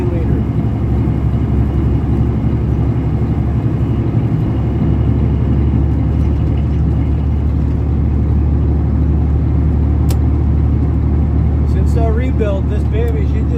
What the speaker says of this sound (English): It's a Western Star, so it has a Detroit in there of some kind